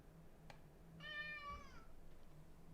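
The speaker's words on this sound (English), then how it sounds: "Why are you meowing?" A cat meows once, a clear drawn-out call at close range, heard indoors over a low steady hum with no talking.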